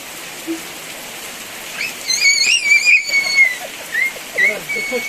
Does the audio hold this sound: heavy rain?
yes